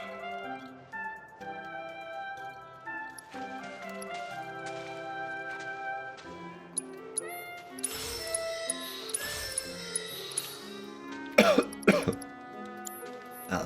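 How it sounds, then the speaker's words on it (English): Several short coughs and throat clearing burst out near the end over game music and chimes from Final Fantasy VII Rebirth, close and fairly loud against the steady tune. "I don't know why I keep coughing"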